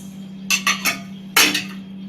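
Moong dal and onion tipped into a pressure cooker for sambar: a few short metallic clinks and scrapes, three quick ones then a louder clatter, over a steady low hum, with no talking.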